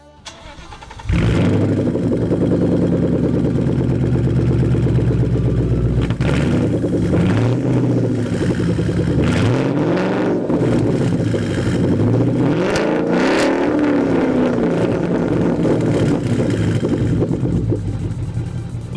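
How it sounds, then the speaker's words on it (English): A 2014 Ford Mustang GT with the 5.0 Coyote V8 starts up loud and close, then idles with a deep rumble and is revved in several sweeping bursts through its exhaust. "For those of you who have been waiting for the exhaust clip, here's a short little snippet."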